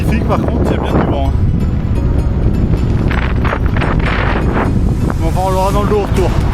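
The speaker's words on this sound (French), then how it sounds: "il y a bien du vent" Strong wind roaring and buffeting the microphone throughout on a group bike ride in Belgium, loud and close, while a person speaks briefly over it.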